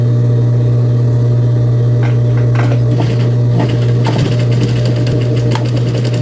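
Sewing machine running backstitches while sewing pleats and a pocket, a steady close motor hum with short bursts of needle clatter as it stitches back and forth.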